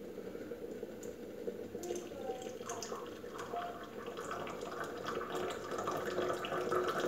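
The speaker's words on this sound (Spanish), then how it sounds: "le voy a verter un poquito, que ya está hirviendo" Boiling water pours over loose tea leaves in a teapot while making Moroccan tea, a steady soft splashing trickle with light drips that grows slightly louder toward the end.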